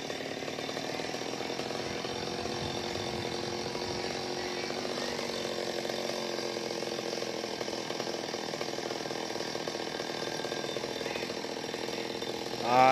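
A chainsaw drones continuously at moderate distance while cutting a coconut palm near power lines, its engine holding a steady buzzing pitch, with no talk.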